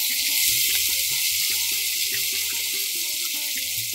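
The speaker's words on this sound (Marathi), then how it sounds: "थोडा कढीपत्ता घालतोय आपण" Curry leaves crackle in hot oil for a traditional sattvic vegetable dish, a bright steady sizzle that sits over a layer of soft musical tones throughout, no speech.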